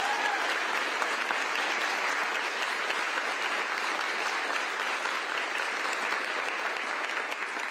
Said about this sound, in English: How about a round of applause for everybody who's been involved in this work?